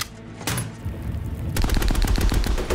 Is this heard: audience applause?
no